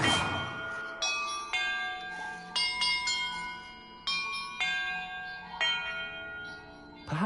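Bells in a Hogwarts video game puzzle ring one after another, each clear metallic strike ringing out and decaying before the next, about eight tones in an uneven sequence with no voices.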